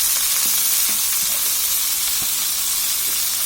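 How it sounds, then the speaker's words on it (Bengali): Radish greens (mula shak) dropped into hot oil, sending up a loud, dense sizzle that runs throughout, with a few light stirring clinks and scrapes near the start, up close and with no voices. "এখন এই শাকটা আমি এই তেলের মধ্যে দিয়ে দিব।"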